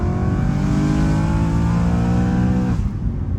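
A BMW M3 E93 convertible pulls hard, its engine note climbing steadily through the revs, loud and close, then cutting off sharply at a gear change near the end. No voices are heard.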